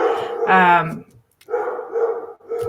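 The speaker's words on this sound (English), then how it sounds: "I apologize for my dogs." Pet dogs barking indoors during a conversation, a loud harmonic bark burst near the start followed by further rough barks, close to the microphone with talk mixed in.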